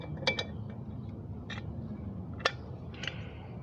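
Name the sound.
ratchet turning muffler bolts on Toro push mower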